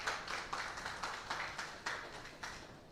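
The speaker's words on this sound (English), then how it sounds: "Please, let's welcome him with a round of applause." Steady applause from the audience at an agricultural biotechnology symposium in Africa as the main speaker is welcomed, a moderate, fairly close wash of clapping with no talk over it.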